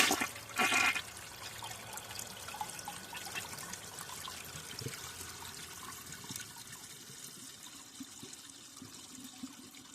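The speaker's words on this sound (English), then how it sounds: "it definitely needs that siphon jet when you're trying to flush stuff like this down there" A 1995 Mansfield Alto toilet flushes with a burst of rushing water at the start, fading into a long steady trickle and refill hiss close by, with no talking.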